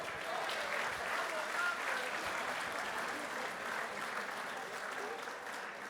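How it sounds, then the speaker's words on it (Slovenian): Steady applause from a crowd at an outdoor political party family day in Vitanju, Slovenia, sustained clapping throughout at moderate, even loudness. "čestitke z našim aplavzom"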